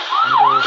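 Fire engine siren in a kids' car-building video game, one short, loud electronic wail that sweeps up and down in pitch, heard alone.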